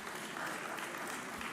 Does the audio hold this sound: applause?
yes